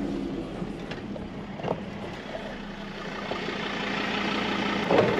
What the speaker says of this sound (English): We're over the sand dune driving